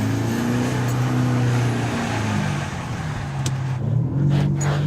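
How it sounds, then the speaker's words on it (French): A car engine running steadily with a low droning hum, the tone dipping briefly then rising again, heard close and continuous with no talking. "Et là, je viens de remettre le moteur."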